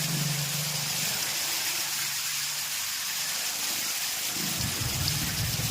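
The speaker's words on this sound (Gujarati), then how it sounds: "જોરદાર વરસાદ પડી રહ્યો છે" Heavy rain pours down on a farm near the Chalala market, a steady, dense hiss throughout, with a faint low engine-like rumble underneath.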